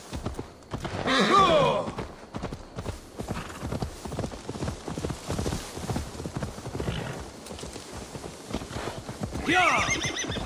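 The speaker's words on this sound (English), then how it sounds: "Now to deliver Magni his horse." Horse neighing in the Assassin's Creed Valhalla video game, with two bright whinnies near the start and end over a steady, loud clip-clop of hooves throughout.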